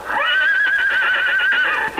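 A horse whinnies in a radio drama sound effect, one long, loud, shrill neigh that rises, holds steady and then trails off, close and alone with no talk over it.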